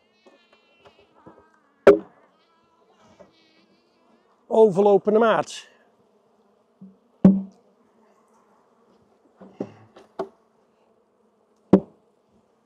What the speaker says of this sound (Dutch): Kijk eens, de hele deksel vol met bijen.